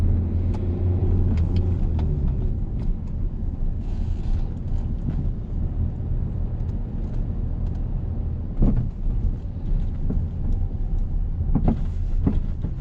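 A car pulls away and accelerates during a French driving lesson, its engine a steady low rumble with road and wind noise, rising throughout, and a few brief knocks near the end.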